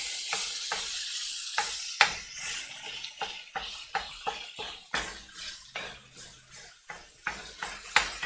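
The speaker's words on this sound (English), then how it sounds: "So I'm frying up this beef, as you can hear." Ground beef sizzles and crackles steadily in a hot pan, with frequent scraping and clinking as a utensil stirs and breaks it up.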